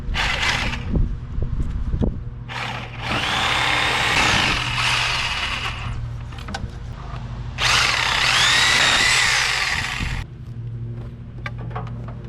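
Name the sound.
corded power tool cutting off nails to disassemble wood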